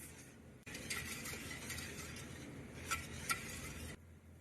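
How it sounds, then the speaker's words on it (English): Sugar stirred in a pan on a burner as it heats for a spiced rum cake: a steady scraping, swishing texture with faint sizzle, joined by a couple of light metallic clinks near the end, then a quiet tail. "And I've turned the heat down, but keep stirring."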